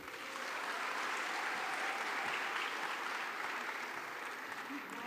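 A crowd at a youth conference closing ceremony applauds after a speech, a broad, even wash of clapping that swells in quickly and holds steady at a moderate distance, filling the room.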